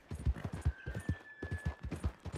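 Hooves of a Mustang horse in Red Dead Redemption 2, a quick steady clip-clop of a ridden gallop, moderately close with a faint tonal whine running through.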